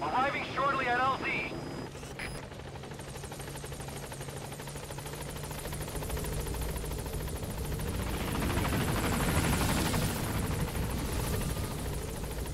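Helicopter arriving at a landing zone in the video game Metal Gear Solid V: rotor thrum and engine whine build steadily and grow louder as it approaches, with a brief radio-style voice near the start.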